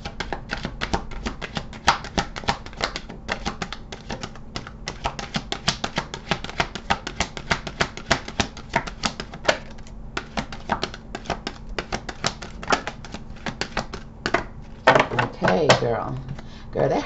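Rapid, crisp clicking and riffling of tarot cards being shuffled, repeated in quick bursts for a long stretch, ending with a louder rustle.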